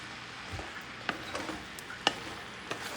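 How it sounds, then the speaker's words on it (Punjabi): Spinach being stirred into masala in a pan: a soft, faint run of scrapes and light taps from the stirring, with a few sharper clicks scattered through a low sizzle, and no talking. "ਆਪਾਂ ਚੰਗੀ ਤਰ੍ਹਾਂ ਮਿਕਸ ਕਰ ਦਾਂਗੇ ਇਹਨੂੰ ਮਸਾਲੇ 'ਚ"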